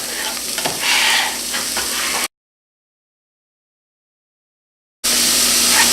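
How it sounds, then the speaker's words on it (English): Carrots cooking in a pan with onions give a loud, close, continuous sizzle. The sizzle cuts out into a few seconds of silence, then resumes at the same strength. "At this point, we're going to add our carrots"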